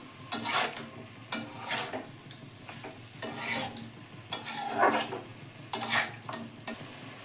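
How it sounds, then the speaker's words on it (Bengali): Spices and lentil dumplings (bori) sauté in a pan for a gourd and prawn curry, with bursts of loud sizzling and scraping stirring in irregular waves, heard close up without talk. "এবার আমি মশলা দিয়ে দিলাম, বড়ি দিয়ে দিলাম, দিয়ে একটু কষে নেব।"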